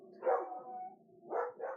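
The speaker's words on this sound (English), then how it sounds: "My dogs won't stop barking." Dogs bark in three loud, close bursts, one longer call followed by a quick pair of barks, with no speech.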